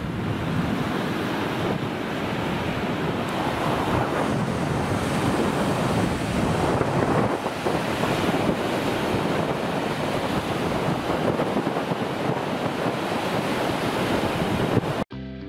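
Wind-driven waves wash continuously onto a lake shore after a day of strong wind, a loud, dense surf roar with gusting wind buffeting the microphone throughout.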